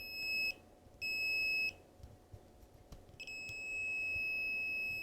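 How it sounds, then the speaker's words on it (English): An Arduino-driven alarm clock buzzer gives out sharp electronic beeps in short bursts with gaps between, steady and fairly close, with no talk over it. "Sorry, that's gonna be our alarm."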